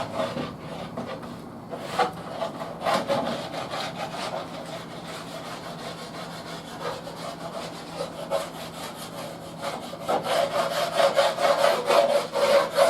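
A hand scraper rasps steadily across oak cabinet doors, stripping off the old finish in repeated close, rough strokes that grow louder and faster toward the end.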